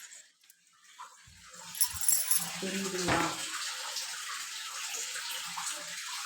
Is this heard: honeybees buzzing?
no